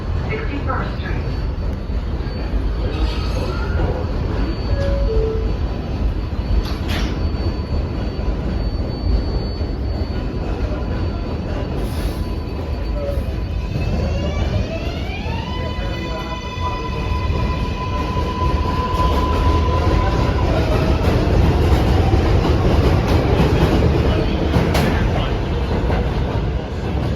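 A New York subway 7 local train bound for Flushing Main Street at the 52nd Street station: steady loud rumble and wheel noise throughout, with high squealing whines rising and sweeping midway as the train moves.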